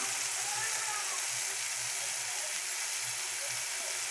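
Tomatoes frying with onions in a pan give a steady, even sizzle and hiss at moderate loudness, with no clear stirring strokes.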